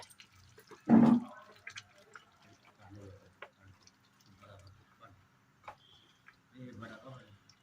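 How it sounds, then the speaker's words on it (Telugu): Water added to a cooking paste in a pan for a chicken dish lands as one short, fairly close splash near the start, followed by soft, scattered kitchen noises. "కొంచెం వాటర్ వేసుకొని ఇలా యాడ్ చేసేసుకోవాలి మనం"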